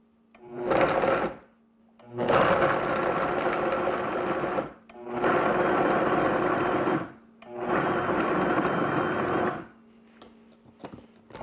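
A Vitamix blender pulsing to chop onion and other vegetables, four loud whirring bursts of a few seconds each separated by brief pauses, close by.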